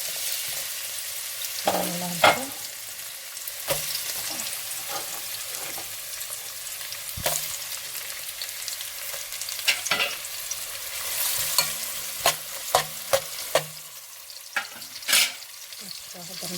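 Chopped onion sizzling and frying in hot oil in a cooking pot, a steady close crackle with scattered sharper clinks of stirring and occasional bumps throughout.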